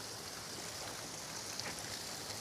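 Steady rain falling on a mountain trail near a bridge in Catmon, Cebu, a dense even hiss throughout with no break or pause.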